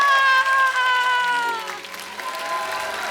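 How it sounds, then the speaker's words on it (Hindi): A studio audience applauds on The Kapil Sharma Show set. Steady clapping rises under a sustained musical tone that fades away, and the crowd noise carries on to the end. "जोरदार तालियां"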